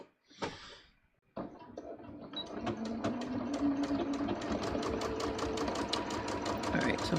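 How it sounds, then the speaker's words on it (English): A sewing machine stitches a dress seam, starting after a brief pause and then running steadily with a fast, even mechanical rattle of the needle, close and fairly quiet. "we're just gonna sew that"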